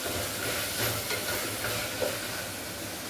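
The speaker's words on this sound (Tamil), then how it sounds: "இந்த டைமில் உருளைக்கிழங்கோடு சேர்த்து வதங்கணும்" Onions and potato sizzle while sautéing in a pan for green peas kootu, a steady soft hiss of frying that runs evenly throughout with no talk over it.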